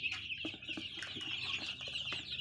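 Young Rhode Island–Thai laying chicks and laying ducklings, about three weeks old, raised together, keep up a dense, continuous high peeping and cheeping close by, with soft scratchy movement underneath.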